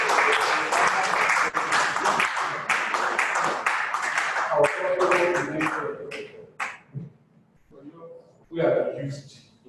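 Audience at the Lagos Book & Art Festival clapping in bursts that thin out into scattered claps, with people talking over and between the applause.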